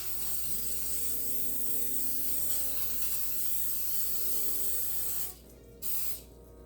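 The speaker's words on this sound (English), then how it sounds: "I'm going to spray my baking pan with a non-stick cooking spray" Non-stick cooking spray hisses steadily onto a baking pan for about five seconds, then cuts off, followed by a second short burst.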